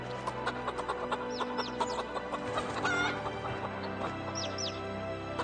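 Chickens and roosters in Project Zomboid cluck repeatedly in a busy farmyard chorus, with overlapping close and mid-distance calls and occasional higher squawks, no talking.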